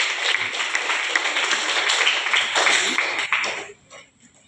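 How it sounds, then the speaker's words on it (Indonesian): A hall audience applauds at an Indonesian grade 6 graduation and farewell ceremony, dense steady clapping that fades out near the end. "Kita beri tepuk tangan lagi."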